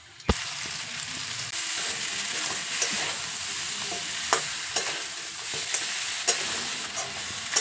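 Fried sea crab being stir-fried in a pan with spice masala, giving a steady loud sizzle with scraping stirs and occasional sharp clinks of the spatula against the pan throughout.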